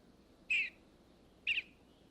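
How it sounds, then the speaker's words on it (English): A male eastern bluebird calling in spring woodland of Shenandoah, two short clear warbling notes about a second apart, close and alone over faint background hiss. "The female hears his call, which he continues for a few days after she's on the territory."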